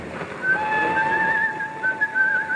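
Someone whistles a steady, clear melody of sustained tones over a busy murmur of weekend crowds in Waterloo Station, moderately close, in a 1952 radio drama.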